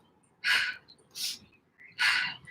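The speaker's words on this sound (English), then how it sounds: "Circle breathing, inhale through the nose," Three breaths close to the mic during circle breathing, inhaling through the nose and exhaling through the mouth: a sharp inhale, a softer one, then another strong airy breath, in a steady rhythm.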